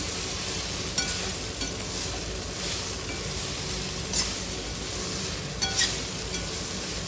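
Idli pieces are stirred in a hot pan for idli fry, a constant dense sizzle underneath with occasional spoon scrapes and light clinks at a steady, unhurried pace.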